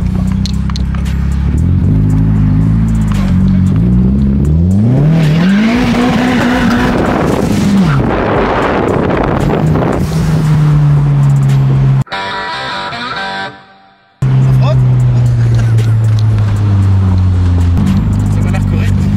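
A car in a video game driving fast, loud engine revving up and down with tire squeal and skids, a brief dropout midway, while people talk over it.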